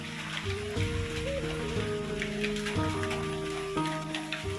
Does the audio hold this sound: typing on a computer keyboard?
no